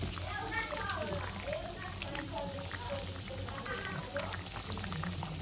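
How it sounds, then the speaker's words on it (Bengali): Boal fish curry bubbles steadily at a rolling boil in a pan, a constant close hiss and gurgle that continues under a voice talking throughout. "জলটা আমার ফুটে গেছে এবার আমি ভেজে রাখা মাছগুলো দিয়ে ফোটাবো"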